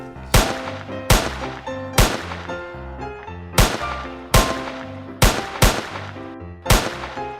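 Pistol shots ring out in a comedy show scene, about nine sharp, loud cracks spaced irregularly over a music bed, with no talking.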